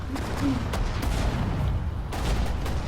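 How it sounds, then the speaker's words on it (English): Anti-aircraft guns firing at tanks in the Sudden Strike 4 war strategy game, heard as dense overlapping gunfire and booming blasts, with sharp shots at intervals over a constant loud battle rumble. "these anti-aircraft guns are actually quite effective against the tanks"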